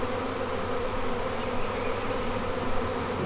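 Honey bees swarm loudly and densely around brood frames being moved during a hive split, a continuous close buzzing drone with no pauses and no speech.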